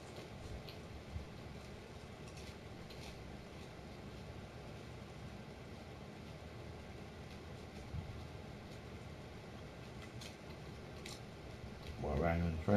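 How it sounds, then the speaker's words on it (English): Riding on a train gives a continuous low rumble and rattle that stays even throughout, with a voice cutting in briefly near the end. "Boy, riding on the train."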